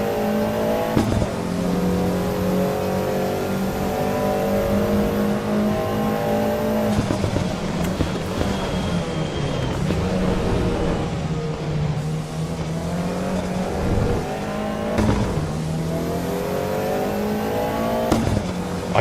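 Race car engine in Assetto Corsa EVO during an online daily race, loud and continuous, rising and falling in pitch through repeated gear shifts and hard acceleration, with no talking.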